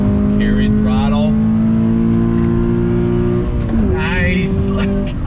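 A 2020 Toyota 86 Hakone Edition's engine pulls hard under full throttle, a loud steady drone with rising harmonics and a brief dip near the end, heard from inside the cabin.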